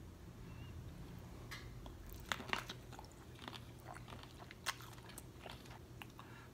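Andouille sausage being eaten in a seafood boil setting, faint close-up bites and wet chewing with a few sharper crunchy snaps, quiet throughout over low background hum.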